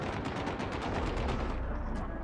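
Rapid cannon fire in the platformer The End is Nigh, a dense, continuous stream of loud booming shots with no talking.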